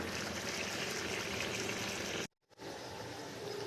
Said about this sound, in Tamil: நல்லா இந்த மாதிரி ஒரு கொதி வந்தோடனே இறக்கிடலாம்.